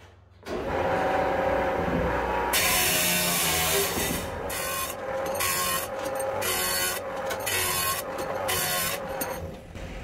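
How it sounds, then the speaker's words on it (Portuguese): Small metal rods being cut by a rotating tool for tower module assembly make a steady, loud grinding whir that runs throughout, with rhythmic pulses as each piece is cut. "Eu posso estar cortando agora 15 ferrinhos, né?"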